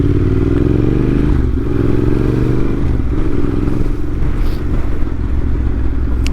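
Yamaha T7 motorcycle being ridden, its engine droning loud and steady up close with some clatter and scraping over the continuous rumble, no talking.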